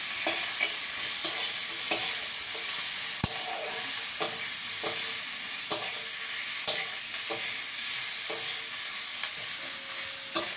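Tomato, green chilli and raw garlic fry in a hot pan with a constant bright sizzle, punctuated by regular sharp clacks of a spoon stirring and scraping against the pan roughly every second.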